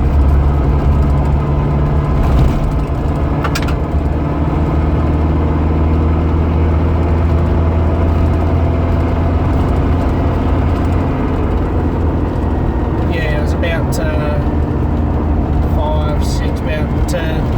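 A 4x4 engine held at about 2,000 revs while driving, a loud steady low drone throughout with a faint whine above it, and someone talks over it.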